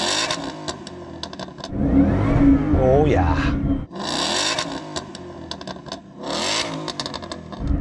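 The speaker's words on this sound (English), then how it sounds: "So I'm going to rev up this Ford." Ford Mustang V8 revved while stationary before a drag race: a deep, rising engine roar surges, drops off, then flares again in shorter blips, loud and close, with someone speaking briefly between revs.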